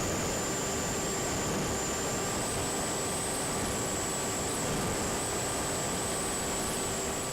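Steady, unbroken whine of an FPV Ranger model plane's electric motor in cruising flight, a constant high-pitched tone over broadband wind rush with no talking.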